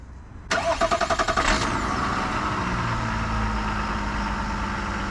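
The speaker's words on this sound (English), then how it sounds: "if I remote start here, the Duramax diesel." Chevrolet Silverado ZR2 pickup with the Duramax diesel engine remote-starts: a rapid rhythmic cranking burst catches into a loud roar, then settles into a steady, close diesel idle with no talking.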